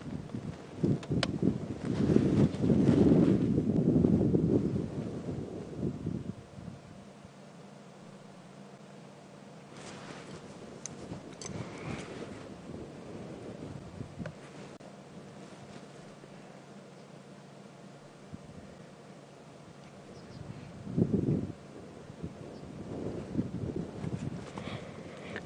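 Wind gusts buffet the microphone on a safari drive in the African bush, in rough, low surges, strongest near the start and again briefly later, easing to a steady breezy hiss between.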